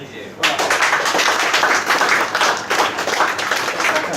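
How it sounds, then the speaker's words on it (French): An audience at a restaurant wine-award ceremony applauds an honoree with loud, continuous, close clapping that starts abruptly and carries on steadily throughout. "Alors Auguste Griset, on peut l'applaudir aussi."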